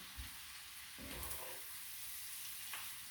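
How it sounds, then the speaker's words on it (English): Onion and cabbage tossed and fried in a skillet, a faint steady sizzle with soft thumps and scrapes of stirring. "toss your onion around and get that mixture all good"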